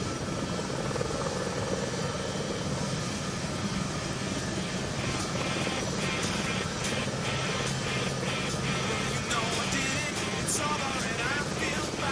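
A C-17 military transport aircraft flies past at an air show, a steady, loud roar of jet engines sustained throughout, with broadband rumble and no break.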